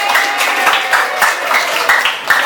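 Classroom of standing student groups clapping to support a classmate, a steady, close, loud patter of many hands with faint rhythmic accents throughout.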